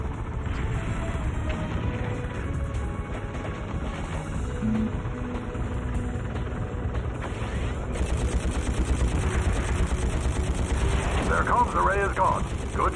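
Rapid gunfire and explosions from the PS2 helicopter combat game Fireblade, dense and continuous, mixed with engine roar and brief radio-style voice lines.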